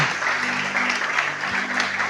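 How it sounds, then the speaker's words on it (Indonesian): Steady applause from a church congregation during a sermon, loud and continuous throughout, with no talking over it. "Tepuk tangan dulu bagi Tuhan Yesus"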